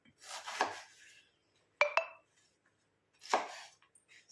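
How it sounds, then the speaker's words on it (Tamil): A knife chops ridge gourd into small pieces on a board, giving three quiet, separate strokes with short pauses between them; one stroke carries a light clink. "எடுத்துட்டு இதையும் வந்து கொஞ்சம் குட்டி குட்டியாக கட் பண்ணிக்கலாம்"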